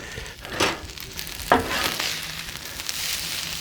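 Shrimp fried rice sizzles and crackles steadily on a Blackstone griddle, with a couple of sharp spatula scrapes and clacks as it is stirred, close and moderately loud.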